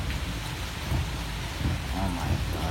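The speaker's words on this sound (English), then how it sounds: "Yeah, I hear rain blowing on me now." Heavy rain during a thunderstorm pours steadily and close, a dense continuous hiss with low rumbling underneath and no clear breaks.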